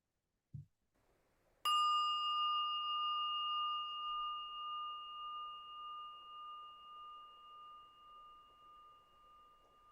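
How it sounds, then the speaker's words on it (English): After a soft thump, a meditation bell is struck once and rings clearly, its long pure tone slowly fading with a gentle wavering pulse in an otherwise quiet room. "or the ring of the bell to bring us into union with this moment."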